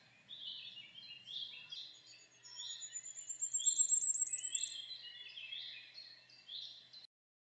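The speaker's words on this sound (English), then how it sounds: "Their song is also high-pitched, but is ascending and sounds more agitated than that of Goldcrest." A firecrest sings a high-pitched, agitated, ascending song in a run of thin repeated phrases, clear and alone against a quiet woodland background.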